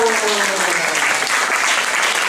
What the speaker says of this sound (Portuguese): Então eu quero ouvir aquele aplauso bem gostoso para o teatro!